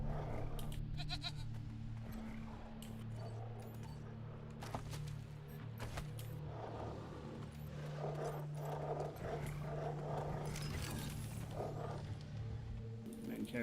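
Mountain goat in the post-apocalyptic game Wasteland 3 bleating in short, rough cries against steady game ambience, while a voice talks over much of it.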